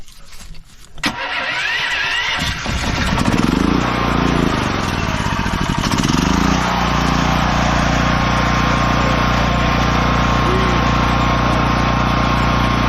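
A Predator 8750 tri-fuel generator engine cranks and catches after choking, then settles into a loud, steady running drone with a constant low hum. No one speaks.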